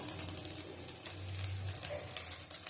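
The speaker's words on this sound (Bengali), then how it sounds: "ভালো করে ভেজে নেবো" Egg chow mein frying in a hot pan, a steady close sizzle with faint stirring scrapes throughout, no voices.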